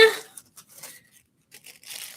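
Paper being crumpled and pressed by hand: a short run of dry crackling and rustling bursts, close and fairly soft, broken by brief pauses.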